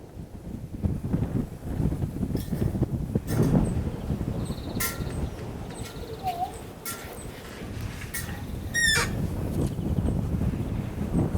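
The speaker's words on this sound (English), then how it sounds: "It is a bit windy" Wind blowing outdoors at a home keeping chickens in Portugal, steady gusty buffeting against the microphone throughout, with faint distant bird calls and brief sounds in the background.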